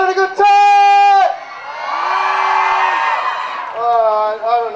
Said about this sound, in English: Make some noise if you're having a good time!